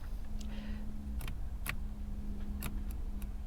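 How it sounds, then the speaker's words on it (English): Door locks clicking on a flood-damaged car, a few sharp separate clicks spaced out over a steady low engine hum. "I can hear the locks clicking"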